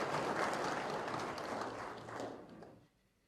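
Applause for the President at the 25th annual meeting of the Council of Traditional Leaders: a moderate, steady patter of clapping that thins and fades out over about three seconds.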